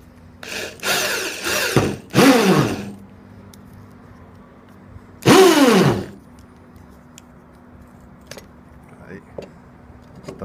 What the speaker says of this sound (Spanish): La broca que le metí es de 5, porque no tenía otra más pequeña.